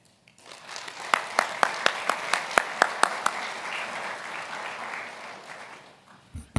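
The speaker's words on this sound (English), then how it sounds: "For the whole panel, let's give them a round of applause." Audience at an interfaith forum held in a synagogue applauds a panel, a close round of clapping with a run of sharp rhythmic unison claps that swells and then fades, with a brief voice at the end.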